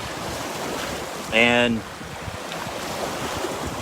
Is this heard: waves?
yes